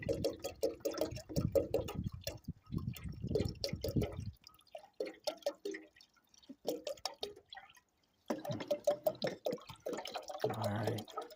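Liquid glugging as it is poured during car maintenance, irregular close gurgles and drips in bursts with a short quiet gap before the pour resumes.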